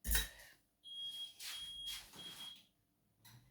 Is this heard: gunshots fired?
no